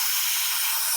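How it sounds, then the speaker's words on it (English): A handheld steamer blows a loud, steady close hiss of steam onto a car window while removing window tint, unbroken throughout. "this is the part where I will let steam sit just a little bit"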